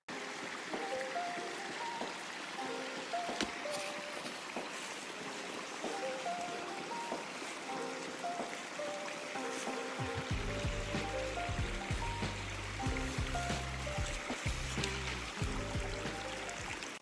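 A forest stream at a spring where drinking water is collected, with continuous trickling and gurgling water close by, steady throughout, with no talk.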